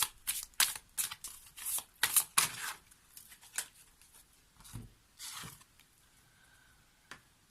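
Tarot cards are shuffled close by in a quick series of crisp riffles and flutters, then slower, fainter slides and taps as the cards settle, with no voices.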